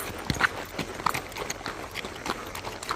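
A horse ridden bridleless along a trail, its hooves clip-clopping in an irregular walking rhythm, fairly close and distinct, with light outdoor background noise.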